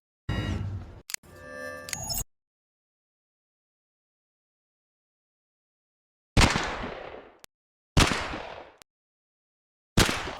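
Sniper rifle shots in a Squid Game-themed action video game, a few sharp loud bangs with decaying tails separated by long stretches of dead silence, with a short burst of other game sound at the start.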